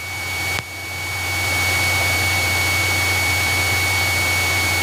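A Cessna 172 engine roars steadily at full power during takeoff, a loud, even drone with a constant tonal hum, after a brief dip near the start.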